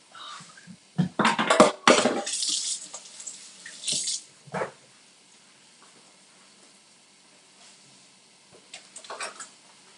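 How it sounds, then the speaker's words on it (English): Tap water runs in bursts into a sink as hands are washed, loud splashing for a few seconds, then quieter trickles and a short final rinse, no talking. "Let me wash my hands"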